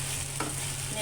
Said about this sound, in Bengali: নেড়ে চেড়ে নিয়েছি।